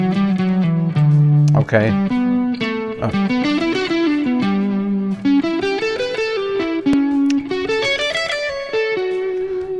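An electric guitar runs through effects and plays a sequence of triads with added scale tones moving up and down from the fifth. The notes are clear and sustained, with one brief spoken word near the start.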